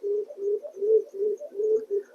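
Racing pigeons coo in a loft, a steady run of soft, rolling low calls repeating in close succession, near and alone without talk.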